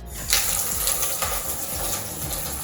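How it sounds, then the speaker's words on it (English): A faucet pours a steady, close gush of water into a black bathtub, filling it with a continuous splashing rush and no talking. "It just looks so cool when it's filling up the tub."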